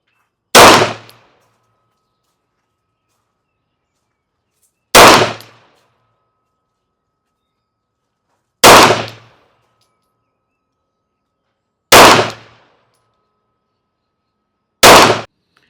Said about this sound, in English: shoot another 5-shot group because that's how we do it. Okay, we're now at 25 yards, second 5-shot group.